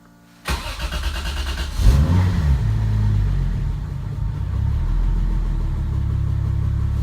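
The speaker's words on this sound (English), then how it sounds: "Listen to that starter." A Lexus SC300 starter whirs briefly, then the engine catches on its first startup with a loud surge and settles into a steady, rumbling idle close by.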